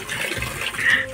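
Water flowing steadily from the feet of a Ravana statue in a jungle-themed park, a continuous close splashing stream with no one speaking.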